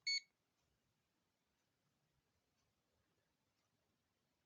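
Single short electronic beep from an Aneng ST181 clamp-on multimeter in continuity mode, a brief high tone at the very start followed by near silence.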